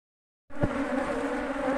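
Honeybees buzzing at an apiary hive, a dense, steady hum that starts abruptly and stays close and loud, with no voices.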